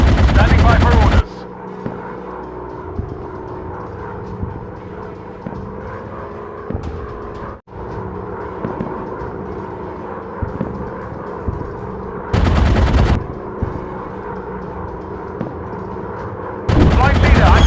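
Bursts of machine-gun fire against planes in a World War I flight combat game, loud rattling volleys at the start, middle and end, with aircraft engine drone and radio voices between them.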